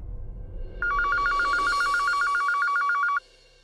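A landline telephone rings in a steady electronic warble of repeated pulses, loud and close, lasting about two and a half seconds before it cuts off, with faint background sound and no talk.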